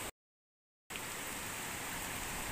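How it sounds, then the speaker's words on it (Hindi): Heavy rain pours steadily under a lemon tree in a hillside village, a dense, even hiss that cuts out briefly near the start and then resumes at full strength. "बहुत ज़ोर की बारिश लग रही है।"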